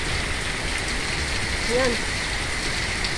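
Heavy rain pours down steadily while someone walks outdoors, a dense hiss of drops filling the scene as a person speaks briefly over it.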